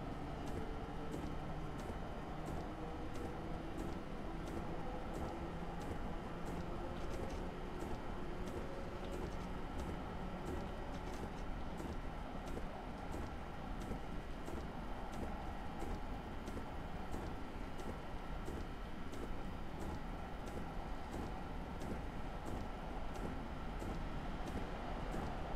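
A train running on the North Jersey Coast Line in the game Train Simulator 2017, a faint, steady rumble with evenly spaced rhythmic clicks of wheels on rail joints, continuous throughout.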